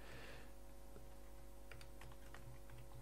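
Someone typing code on a computer keyboard, with a short burst of faint, irregular key clicks sitting over a steady electrical hum and no speech.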